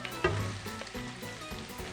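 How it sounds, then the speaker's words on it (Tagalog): Shrimp tipped into a hot pan with chili garlic sauce sizzles and crackles steadily and close up, with a few soft stirring knocks in the middle and no talking. "Next, ilagay na po natin ang ating shrimp."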